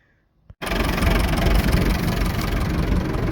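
An old tractor engine cranks and catches with a sudden loud start, then settles into a steady, close rumbling idle with no talk over it.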